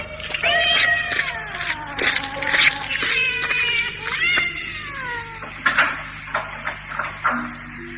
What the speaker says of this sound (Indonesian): Sebaiknya aku usir saja kucing ini. Kalau tidak, pasti dia akan ribut terus.